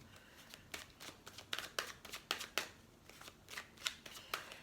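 Tarot cards are shuffled by hand in a quick run of crisp riffling bursts and flicks, close and fairly quiet, with a card or two slipping out of the deck.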